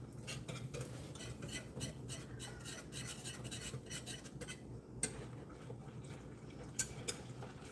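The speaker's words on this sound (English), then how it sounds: "And now we're just going to stir this until it thickens." A spoon scrapes and stirs through a liquid mixture in a pot while it thickens during tea party food prep, a soft continuous rasping with steady rhythmic strokes and a few brighter clinks.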